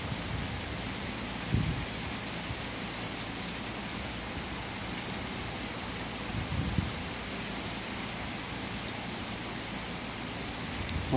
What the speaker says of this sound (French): il commence à pleuvoir, hein, je vais recevoir plein de gouttes de pluie